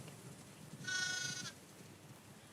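A sheep in The Last of Us Part 2 lets out one clear, drawn-out bleat lasting about half a second, fairly close, against a faint ambient backdrop with no talking.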